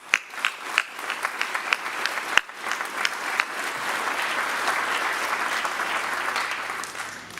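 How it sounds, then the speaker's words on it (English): Audience applause at a high school senior awards night, starting with scattered individual claps that swell into a loud, sustained round of clapping from a large crowd filling the hall. "Please join me in a warm round of applause"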